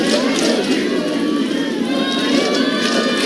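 Dense, steady crowd roar from an Oklahoma Sooners cheering section at a Women's College World Series softball game against Oregon, loud and continuous throughout with no distinct voice standing out.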